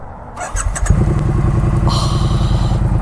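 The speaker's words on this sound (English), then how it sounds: "A lot of motorcycles going down this highway too." A loud motorcycle roars up close on a highway, its engine revving with a throaty, rhythmic rumble and a brief high squeal, drowning out everything else.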